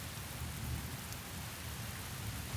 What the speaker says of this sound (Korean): 초원에 소나기가 내린 날